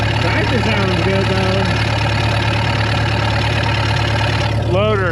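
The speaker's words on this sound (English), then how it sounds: "Tractor sounds good" A Western-brand tractor engine idles with a steady low rumble close by, while someone talks over it and a high squeaky tone slides up and down near the start and the end.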